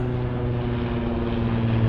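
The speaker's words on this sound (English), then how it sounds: "Plane up there." An airplane passes overhead during a walk along the shore at low tide, giving a steady, even drone with a low humming tone that holds throughout, moderately loud and without speech.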